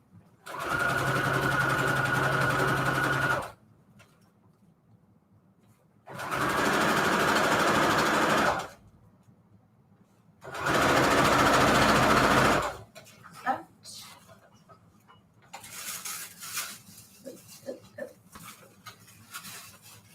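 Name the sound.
sewing machine stitching fabric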